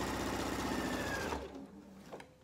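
A sewing machine stitches a market bag from the right side with a steady, close whirring hum that runs for over a second, then stops abruptly, leaving quieter handling noises.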